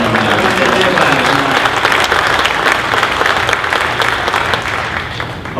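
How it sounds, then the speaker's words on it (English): A seminar audience at a Corvette racing event gives sustained applause, a thick crowd of clapping hands with some voices mixed in, easing slightly toward the end. "I just wanted to give them another round of applause."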